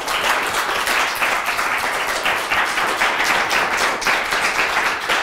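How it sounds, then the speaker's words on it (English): Sustained audience applause at a lecture on peace in the Korean Peninsula at Oxford, dense steady clapping filling the room at an even level from start to finish. "please do join me in a round of applause for Mr."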